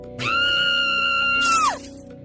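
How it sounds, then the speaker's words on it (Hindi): A girl's high, sustained scream rings out loudly for over a second, then drops off sharply at the end, used as a story sound effect from a school rooftop. "एक दिन अचानक स्कूल की छत से एक लड़की की चिल्लाने की आवाज आई।"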